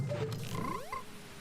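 Frog choir in Zelda Majora's Mask 3D, a short burst of synthetic croaks rising in pitch as warbling, creaky game tones over background music, brief and fairly clear.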